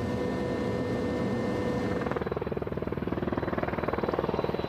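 A rescue helicopter's rotor beats steadily, the rhythmic chopping growing more distinct and pulsing partway through over a constant engine roar.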